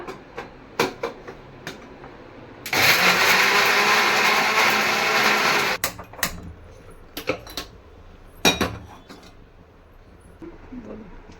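A kitchen mixer grinder whirs loudly for about three seconds grinding cloves and cinnamon for chicken gravy, with clattering and light knocks before and after.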